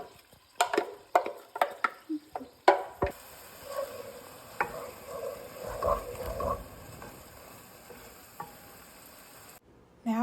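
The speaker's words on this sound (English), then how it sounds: "we'll remove the beef and keep the fat in the pan to cook with the onion and garlic" Onion and garlic fry in rendered beef fat in a pan, giving a low, steady sizzle, with sharp clatters of a utensil against the pan at the start and occasional stirring.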